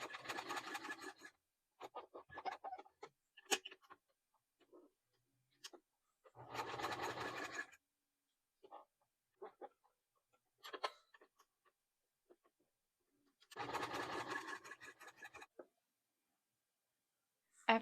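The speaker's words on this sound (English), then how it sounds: "you're going to stitch around this outer edge on the 3 sides" A sewing machine stitches around the outer edge of a quilted fabric pencil case in three short bursts of rapid whirring, separated by near silence with faint handling clicks and rustles.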